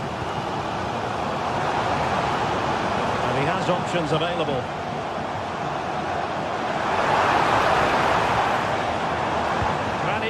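Steady stadium crowd roar in a football video game fills the background throughout, swelling louder near the end, while a commentator talks over it.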